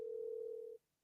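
A steady telephone dial tone over speakerphone, a single clear held tone lasting under a second before cutting off, fairly faint and alone.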